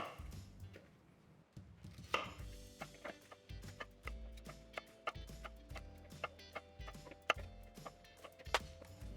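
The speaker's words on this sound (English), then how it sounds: "If you have any of those gigantic GMO Brussels sprouts, then yeah, maybe chop them in half again." A knife chopping Brussels sprouts in half on a cutting board, a quiet, close series of crisp, irregular thunks repeating throughout.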